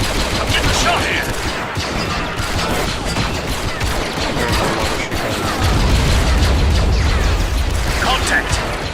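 A Star Wars video game battle against droids in a Coruscant ambush, with heavy, sustained blaster and gunfire. Loud overlapping shots and mechanical clatter run throughout, building louder near the end, with voices calling out over the din.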